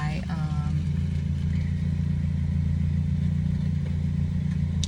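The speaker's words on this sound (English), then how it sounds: "That car's really loud." A loud car passes by outdoors with a steady low engine rumble that persists throughout, and a brief higher tone near the start sitting over the droning motor.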